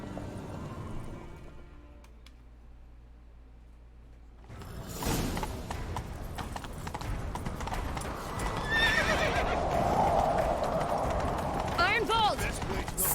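A horse in The Witcher 3 gallops with rapid, loud clip-clop hoofbeats and whinnies during the chase, following a quieter stretch where a person speaks.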